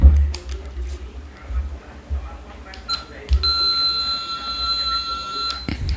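A SCOM FC 12 Pro device sounds when its monitor button is pressed, giving a sustained electronic tone that starts midway and holds steady, preceded by clicks and handling knocks.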